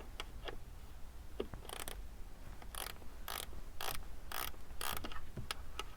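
Loose bottom bolt on a Mercedes door shifting and snapping, heard as a run of sharp, dry clicks and short ratcheting bursts repeating irregularly over a faint steady hum.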